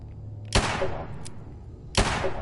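Two sharp gunshots from a lever-action revolver in Fallout 4, spaced about a second and a half apart, each a loud crack followed by a short decaying tail over low game ambience.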